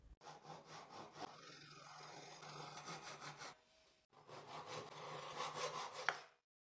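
Japanese pull saw trims an excess strip of lighter wood glued into a woodworking piece, close and quiet, with rhythmic back-and-forth rasping strokes, a brief pause midway, then more strokes.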